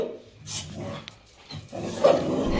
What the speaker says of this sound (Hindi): ये बिस्तर पे चढ़ के भौंकेगा